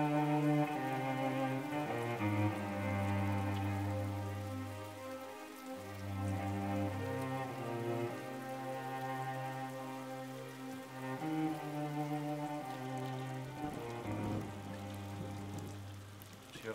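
Steady rain falls outside a shop window in a film scene, a soft wash of patter beneath loud, sustained music that carries throughout.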